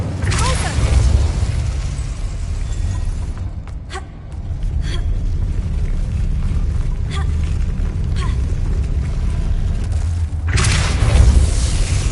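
A fiery Incendio spell cast in Hogwarts Legacy on PS5 erupts as a loud, booming burst that sustains with a rushing roar, then flares up again near the end, while a voice speaks over it.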